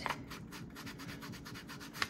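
Short rubbing scrapes against the white edge of paper from junk mail envelopes, distressed by hand as close, soft sanding-like strokes, with a sharper scratch at the end.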